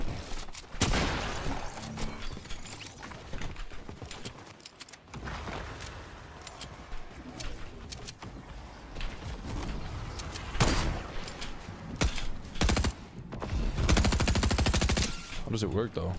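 SMG gunfire in the battle royale video game Fortnite, with rapid bursts of shots repeating throughout, loud and close, with players talking over the fighting.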